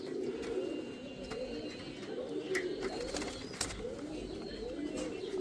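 Pigeons cooing in a loft, soft repeated throaty coos rolling in overlapping phrases across the whole stretch, close and moderately quiet, with occasional faint clicks and rustles in the background.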